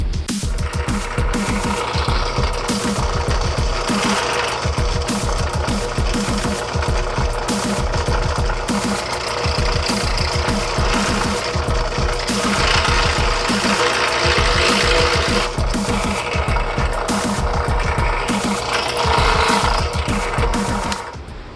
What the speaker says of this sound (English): So I'm going to drill this out to 1/4 inch probably